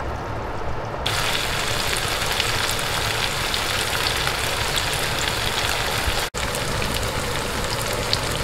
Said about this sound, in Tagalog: Prito natin yung tokwa dito.